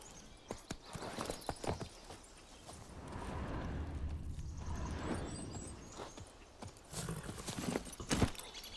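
Hooves of Roach, the horse in The Witcher 3, clip-clop in a steady trot, with several sharper hoof strikes near the end over a low rumbling game ambience.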